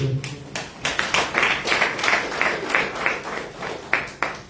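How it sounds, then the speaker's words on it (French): An audience claps through a gathering on support for pregnant women, the applause coming in uneven bursts of hand claps, moderately loud and fairly close, with no speech over it. "Acclamez pour eux aussi."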